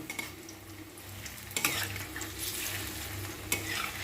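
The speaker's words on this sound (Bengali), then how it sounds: "এবার এগুলিকে ভেজে নিই" Jackfruit kofta frying in a pan: a steady close sizzle of hot oil with soft stirring and scraping, two sharper clatters partway through, and no talking.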